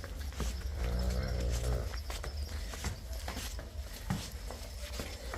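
A low, drawn-out lowing from a buffalo calf rises near the start, then gives way to rustling, shuffling and scattered thumps of a buffalo farmyard.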